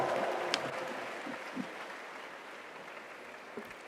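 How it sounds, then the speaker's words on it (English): Steady applause from a conference crowd, a dense wash of many hands clapping that carries on throughout without anyone speaking. "Please welcome her with a big round of applause."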